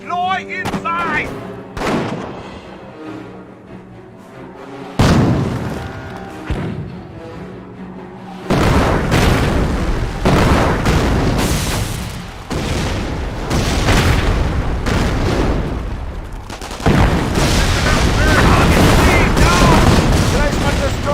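Heavy artillery barrages and explosions in a World War battle game, loud booming blasts and rapid gunfire bursts in dense repeated volleys, with voices shouting orders underneath.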